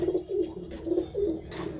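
Pigeons in a loft give repeated low rolling coos, several close calls in a steady rhythm over faint background rustle.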